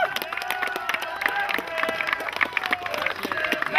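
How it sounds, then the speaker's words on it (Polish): A crowd claps and cheers at a town festival cup ceremony for a football team captain receiving the trophy outdoors, with a dense continuous patter of applause and a few shouts throughout. "Jeszcze raz wielkie brawa."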